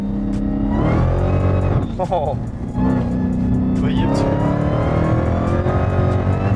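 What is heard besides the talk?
truck engine accelerating hard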